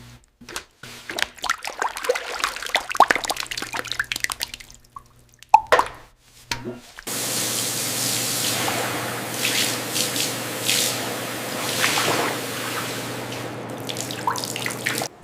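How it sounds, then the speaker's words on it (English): Armadillo shell and tissue samples go into a liquid solution: wet splashes, plops and drips at first, then a steady running-water rush like a filling basin, fairly close and loud. "The segmented shell and tissue samples are submerged in the regeneration solution, initiating the replication sequence."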